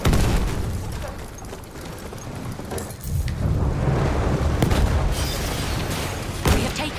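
Heavy booms from grenade explosions in an aerial combat shooter, rolling and overlapping into a continuous loud rumble with sharper bursts toward the end.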